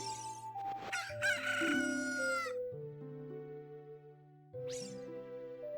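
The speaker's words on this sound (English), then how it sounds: "A chicken just went behind you and you're not doing nothing?" Chicken in the video game Zelda Ocarina of Time crows loudly with a long, synthetic cock-a-doodle-doo over sustained game music tones, followed by a shorter squawk near the end, with no talking.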